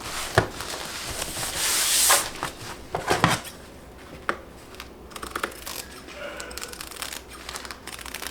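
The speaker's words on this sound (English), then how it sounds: "Let me go ahead and cut a little piece." Scissors snip through raffia material in a series of sharp, close crunchy cuts with a rustling swish, followed by quieter handling and scattered clicks, with no talking.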